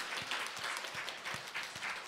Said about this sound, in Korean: 한번 박수 한번 쳐줍시다.